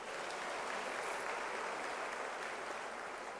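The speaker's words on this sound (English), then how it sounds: "So I think it deserves a round of applause." Audience applause fills a university's closing ceremony for its academic year, a dense, steady wash of many hands clapping at close range with no voices over it.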